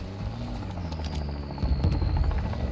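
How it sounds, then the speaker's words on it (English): An attack helicopter in a video game thrums steadily, its rotor and engine drone holding even and fairly loud, with scattered game effects over it for a few seconds. "Oh, is this the attack helicopter?"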